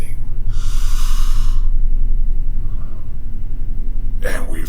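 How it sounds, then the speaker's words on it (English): Breathing during meditation, a loud close sharp inhale and then a quieter stretch, with another breath sound starting at the end. "when we meditate, we do the breathing"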